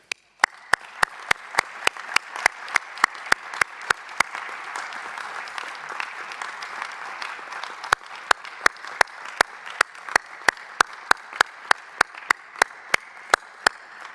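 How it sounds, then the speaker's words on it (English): Applause at a largely virtual international conference, a soft spread of clapping under a string of sharp, evenly spaced clicks that tick along steadily throughout. "We want to thank you with a big round of applause"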